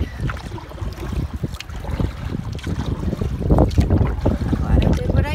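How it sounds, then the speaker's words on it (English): Wind gusting over a lake during a solo wilderness canoe trip in Temagami, a steady broadband rush that swells louder toward the end, with some faint knocking and water movement beneath it. "The wind is definitely not that bad as it was on that campsite."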